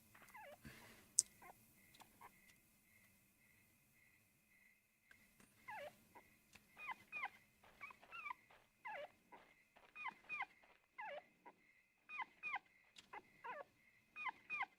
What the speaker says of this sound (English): As the girl approached the sign, she heard a dog's bark.